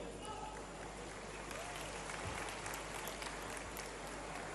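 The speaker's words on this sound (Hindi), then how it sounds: "जोरदार तालियों से इनके आमद का स्वागत करें।" Audience applause welcomes a secondary school teacher at a Madhya Pradesh government ceremony for newly appointed teachers: a faint, distant, steady wash of clapping that runs evenly throughout.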